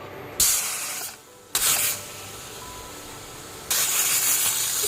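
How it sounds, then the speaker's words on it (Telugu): Pressure cooker with moong dal letting off steam in loud, steady hissing bursts that start and stop abruptly, three separate releases over a few seconds, close by with no voices. "3 విజిల్స్ వచ్చే వరకు కూడా కుక్ చేసుకోవాలి"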